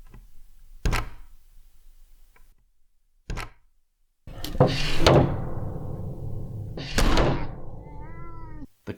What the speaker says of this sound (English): doors opening and slamming